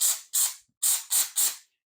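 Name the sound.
texture sprayer spraying ceiling texture onto cardboard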